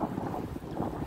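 Cold, steady wind buffets the microphone by the seaside at an Athens cruise port, a low continuous rumble with faint surf underneath, no voices.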